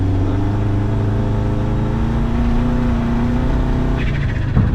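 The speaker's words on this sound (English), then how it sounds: "Driving a rally car in a real sanctioned rally situation" Rally car driving a test lap in a sanctioned rally setting, a steady loud engine drone heard from inside with a brief change in tone near the end, no talk.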